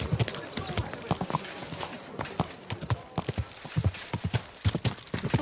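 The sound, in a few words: horse hooves in the video game Kingdom Come: Deliverance II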